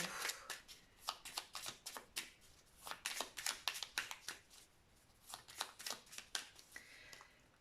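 A deck of tarot cards is shuffled by hand for a reading, giving quiet, close, rapid papery flicks and riffles in irregular bursts with no talking.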